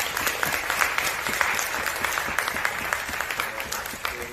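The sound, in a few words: audience applause at an award ceremony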